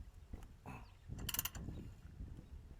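A wheel hub nut is tightened down to seat the bearings, giving a few close metallic ratcheting clicks and clanks in short bursts, one brighter scrape in the middle, with a quiet background.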